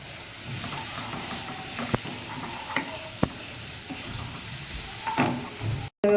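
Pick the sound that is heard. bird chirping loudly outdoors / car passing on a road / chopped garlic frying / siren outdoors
chopped garlic frying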